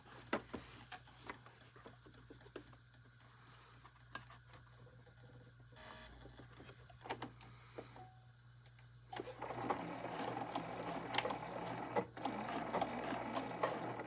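A sewing machine stitches a small fabric border seam around a cross stitch piece, a quiet steady mechanical whirring and ticking that grows busier and louder toward the end, with no talk.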